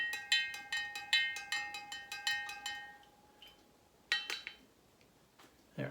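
Spoon stirring Kool-Aid with artificial sweetener in a container of water, a quick series of bright ringing clinks against the side, then a pause and a few louder taps, close and fairly quiet.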